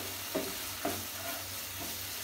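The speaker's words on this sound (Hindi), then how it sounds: "मसाला को 1 मिनट भूनें।" Spice masala for Kashmiri rajma curry frying in a pan, a soft steady sizzle with a few distinct scrapes of a spoon stirring, quiet and close with no talking.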